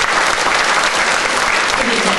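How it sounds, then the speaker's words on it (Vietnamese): An audience at a literary celebration for a writer and poet breaks into loud, dense applause, a sustained wash of many hands clapping close by, with a voice faintly underneath. "Một tràng pháo tay thật lớn cho nhà văn kiêm nhà thơ Hà Bình Trung."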